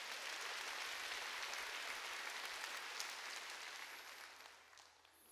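A church congregation at a Korean Sunday worship service claps together in a sustained burst of dense, even applause that holds steady and then fades toward the end.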